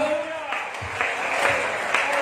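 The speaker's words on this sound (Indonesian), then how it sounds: "Kasih tepuk tangan" A church congregation claps during worship, a steady wash of applause filling the short span with voices mixed in underneath.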